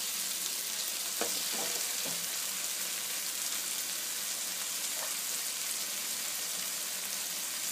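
Tomatoes frying in a pan with salt and spices for Punjabi-style pumpkin sabzi, giving a steady broadband sizzle throughout with a few soft clicks of stirring near the start, no talk.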